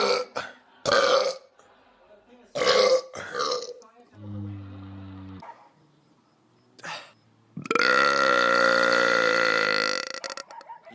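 Several loud, deep belches spaced across the stretch, one short and guttural, another long and drawn out, with brief bursts of other voice sounds between them.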